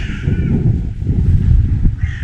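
Crows caw, one call at the start and another near the end, over a low outdoor rumble of wind.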